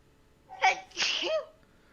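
A person sneezes once, a sharp two-part burst with a short intake followed by the explosive release, close and clear against a quiet room.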